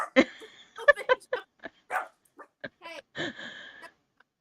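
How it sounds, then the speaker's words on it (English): Dogs bark in scattered short bursts at moderate distance, several yips and woofs spread irregularly over a few seconds in an otherwise quiet room. "And you got dogs."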